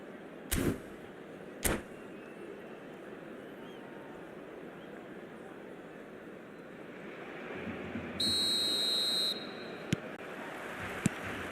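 In an eFootball Mobile match between Portugal and another side, a single long referee whistle blast sounds over a low, steady crowd ambience, with a couple of sharp knocks earlier and faint taps afterward.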